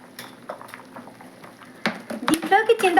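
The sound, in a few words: drumstick sambar boiling in a pot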